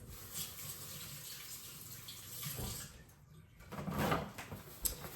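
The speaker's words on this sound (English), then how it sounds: "Okay, I'm gonna wash my hands." Water running from a tap while hands are washed, a faint steady splashing stream with a few louder splashes near the end.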